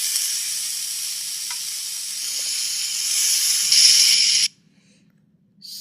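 Leafy greens dropped onto eggplant frying in a pan give a loud, bright sizzle and hiss close up. The sizzle swells, then cuts off abruptly near the end and leaves near silence.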